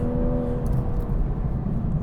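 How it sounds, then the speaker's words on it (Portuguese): A Toyota GR Supra A90 six-cylinder engine hums under acceleration from inside the car, a steady, moderately loud low drone with no voices. "ficamos com uma excelente sonoridade que só um 6 cilindros é que é capaz de produzir"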